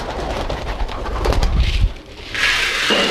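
Pigeons coo softly in low, throaty calls, heard alongside a steady patter like rain and a hissing wash of background noise.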